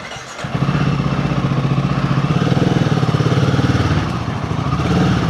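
Royal Enfield Himalayan 450 (2025+ model) with a Fuel X Pro Plus dual O2 sensor module, its engine running steadily close by with a throbbing, even pulse for about five seconds, no voices over it.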